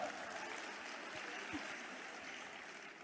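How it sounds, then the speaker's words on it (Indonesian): An audience at a church seminar on mercy claps along in a steady, fairly soft patter of many hands, a diffuse roomy wash that carries on evenly without any talking over it. "Tepuk tangan dong."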